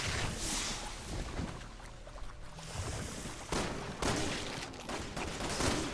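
Gunfire rattles in the video game Resident Evil 6, dense, rough bursts of shots over a constant noisy background, fairly loud and continuous through the clip, with no talk.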